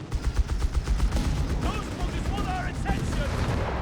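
A 6-pounder anti-tank gun fires in a Company of Heroes 3 battle, with booming shots and rapid gunfire crackling through a dense wartime din while a commentator talks over it.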